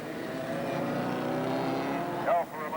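Race cars, a big Ford Mustang among them, roar past during a 1990 classic street race in Queenstown. The engines drone at a steady pitch, and a commentator's voice runs faintly beneath the noise.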